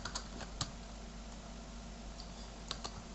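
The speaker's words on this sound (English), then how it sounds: "I'm just going to type out Fragment again." Typing on a computer keyboard: faint, quiet keystrokes with scattered sharper clicks at irregular intervals, in a soft background hum, with no voices.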